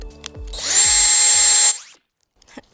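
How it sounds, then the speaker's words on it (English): A power drill widens a hole for an M6 bolt, one loud steady high-pitched whine lasting about a second after a few short knocks, then stopping abruptly into near silence. "I'm going to just widen up the hole a bit"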